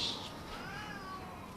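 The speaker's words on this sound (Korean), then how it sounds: "고양이 새끼들 시끄럽게 떠들고 지랄이야" Cats meowing in a short burst, noisy and fairly close, with one drawn-out cry over steady background hiss and no talking.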